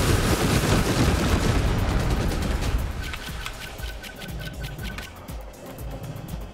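Bombs reloading and launching on a bomber plane in Trailmakers: a dense barrage of loud bursts and rumbling blasts up front, thinning into a repeated clicking reload rhythm with softer booms behind it.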